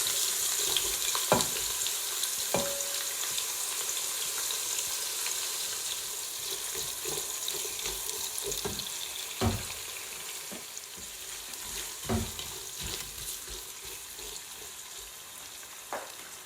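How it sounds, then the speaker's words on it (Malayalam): Chopped onions fry steadily in hot oil in a non-stick pan, a continuous dense sizzle with a few sharp clicks and scrapes of stirring scattered throughout, with no voices. "2 സവാള അരിഞ്ഞത് നന്നായി വറുത്തെടുക്കുക"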